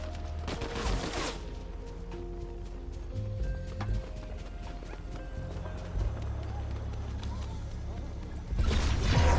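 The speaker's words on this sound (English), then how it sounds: "Someone shooting at me." Gunfire in the Fortnite video game, bursts of sharp, rapid shots crackling across the fight, with a player talking over the action.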